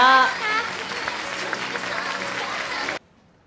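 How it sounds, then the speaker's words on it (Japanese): A theater audience at an anime film premiere stage greeting applauds in a dense, steady wash of clapping for about three seconds before it cuts off sharply, following a voice at the start. "大きな拍手をお願いいたします"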